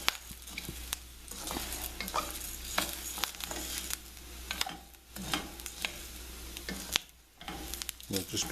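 Israeli couscous toasts in a hot pan while being stirred, with frequent scraping clicks of the utensil over a soft, continuous sizzle, close and without speech.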